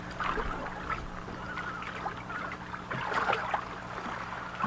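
Paddles dip and pull through water as a boat is rowed, giving soft irregular splashes and trickles, fairly quiet, with a hum in the background and no talking.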